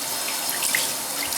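Tap water pours hard into a sink while someone rinses their face during a skincare routine, a brief, close, steady hiss of running water with small splashes.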